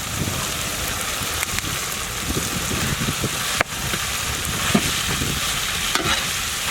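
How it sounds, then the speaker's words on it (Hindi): Sliced tomatoes and green chilies fry in a pan for chicken tahari biryani, giving a steady dense sizzle with scattered scraping stir clicks and a few sharper knocks, no voices. "थोड़ा सा भुने गए बाद हम लोग इसमें स्लाइस्ड टमाटोस ऐड करेंगे।"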